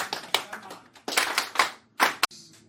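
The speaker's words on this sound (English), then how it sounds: "Let's give a hand clap to the trust." An audience claps in short scattered bursts at a ceremony, with several separate rounds of clapping close by.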